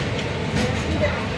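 The Rameswaram–Bhubaneswar Express rumbles along the rails, a brief, steady, dense running noise with no distinct clacks standing out.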